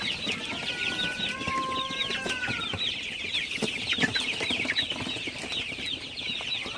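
Several Sonali super hybrid chickens cluck and chirp together at night in a close, continuous chorus, with a few higher peeps over a low background hum.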